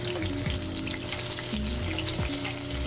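Sliced eggplant fries in a pan of hot oil, giving a steady close sizzle and crackle with some light stirring or tapping sounds and no talk.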